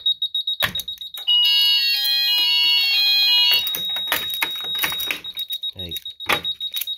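A fire alarm system sounds during a test, its shrill electronic tone ringing steadily and loudly for several seconds, then broken by clatter, handling noise and someone talking nearby.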